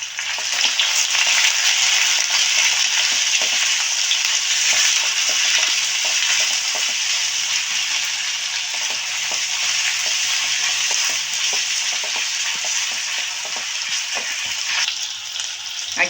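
Sliced onion with a little turmeric frying in a pan, a steady loud sizzle with continuous crackle and occasional stirring scrapes throughout, close up and without talk.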